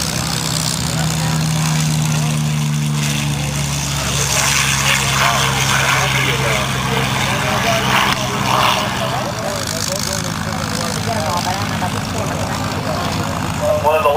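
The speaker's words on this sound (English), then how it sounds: "Here comes the first P-40 flight of the day," A 1944 P-40 fighter plane flies overhead at an air show, its propeller engine droning loudly and steadily throughout, with people talking underneath.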